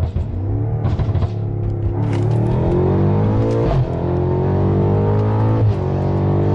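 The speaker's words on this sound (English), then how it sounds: "I'm gonna do one more pull for y'all. Bro, them pops" A modded car accelerates hard, its loud, close engine drone climbing steadily in pitch through a long pull, with a few brief sharp cracks breaking through the roar.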